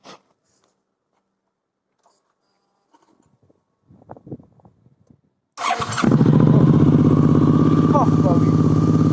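A 2014 Suzuki DL 650 V-Strom fitted with a GPR stainless exhaust silencer. After a few seconds of near silence and light handling noises, the engine fires up and settles into a loud, steady, deep idle.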